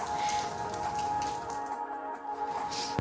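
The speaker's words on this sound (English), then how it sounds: "It is still quite cold and rainy, and it's going to be like that all day." Steady rain falling outside on a cold day along the Pacific Crest Trail, a constant patter of drops at moderate level with a sharper tap near the end.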